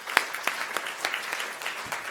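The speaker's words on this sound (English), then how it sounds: "Krista deserves a round of applause because she did all the organization for this big event" An audience at a Merkel cell carcinoma dinner event applauds the organizer, a modest, somewhat sparse round of clapping with a few distinct sharp claps standing out from the steady patter.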